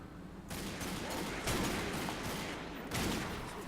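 Gunfire in the co-op shooter The Darkness 2, a steady rattling stream of shots with heavier bursts at regular intervals, fairly quiet in the mix and without talking.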